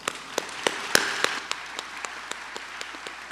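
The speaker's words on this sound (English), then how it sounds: "Ladies and gentlemen, please give this group a round of applause." Audience applause at a college commencement ceremony, sparse distinct hand claps ringing out in an uneven rhythm, fairly faint and reverberant, thinning out toward the end.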